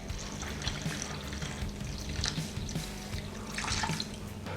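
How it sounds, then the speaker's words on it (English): Apple juice poured slowly into an Instant Pot pressure cooker over rubbed BBQ ribs makes a steady, soft splashing trickle, continuous and fairly quiet, with no talk. "we need to add some liquid, and for this I'm going to use 4 cups of apple juice"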